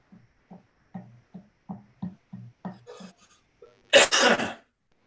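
A short run of quiet voiced sounds builds up to a single loud, breathy sneeze near the end, followed by a brief trailing exhale.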